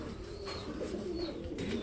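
Soft, low pigeon coos repeat in a steady murmur, with a few faint bird chirps above, nearby and without any talking.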